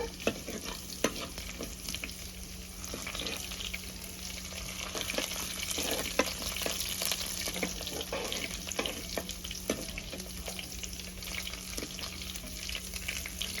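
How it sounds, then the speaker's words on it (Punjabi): Garlic fries in a pan until brown as the base for sev bhaji, with a soft, steady sizzle and scattered light clicks of a stirring spoon, fairly faint throughout. "ਉਨੀ ਕੁ ਦੇਰ ਤੱਕ ਪਕਾਵਾਂਗੇ ਜਿੰਨੀ ਕੁ ਦੇਰ ਤੱਕ ਆਪਣਾ ਲਸਣ ਬ੍ਰਾਊਨ ਨਹੀਂ ਹੋ ਜਾਂਦਾ"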